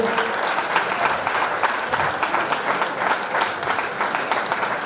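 An audience at an evening community event claps loudly and densely, sustained applause filling the room without letup.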